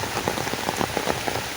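Steady rain drums on a surface outdoors during a village chicken feast, a dense, continuous patter with a few louder drops standing out. No voices are heard.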